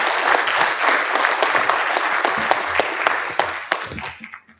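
Sustained applause from a crowd, dense clapping that holds steady and then thins out and fades at the end.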